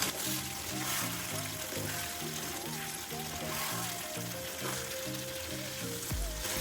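Chicken curry simmers and sizzles in a pan as it is stirred, a soft bubbling fry sitting under steady background music.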